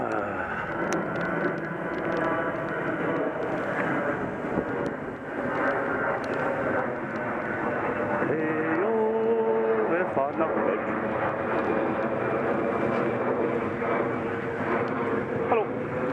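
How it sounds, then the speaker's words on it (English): Airplane flying overhead, a steady engine drone and roar sustained throughout under someone talking, with a smooth whine rising midway. "there we go, another plane flying up"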